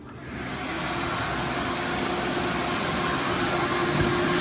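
A shop vac runs with a loud, steady roaring whine that swells up over the first second and then holds constant and close.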